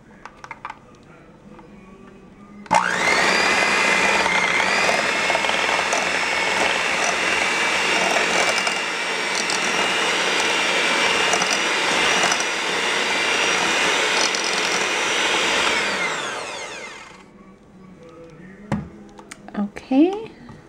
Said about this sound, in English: So I'm going to go ahead and blend this together